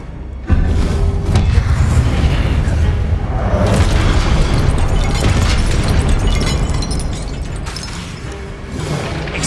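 Expelliarmus spell blasts in the Hogwarts Legacy video game, loud booming explosive bursts and crashing impacts in a dense continuous battle din, with a brief shouted voice amid the effects.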